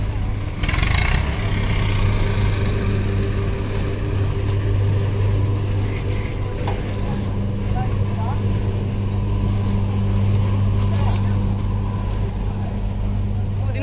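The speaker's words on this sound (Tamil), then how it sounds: "சொனாலிகா டிராக்டர் பார்த்தீங்கன்னா 2 டிப்பர் போட்டு பார்த்தீங்கன்னா உள்ளே இழுத்துட்டு போகுதுங்க." Sonalika tractor engine pulling two loaded tipper trailers near a sugar mill, a steady low diesel drone throughout, with someone talking over it.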